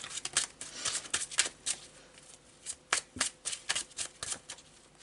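A deck of Tarot de Marseille cards being shuffled by hand, close up, in quick bursts of riffling and flicking with brief pauses between, fairly loud and with no talking.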